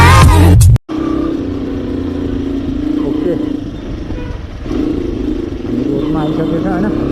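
A motorcycle, recorded on a GoPro Hero 7 Silver, rumbles at a steady idle close by after a brief loud burst and a dropout, the engine note rising slightly near the end.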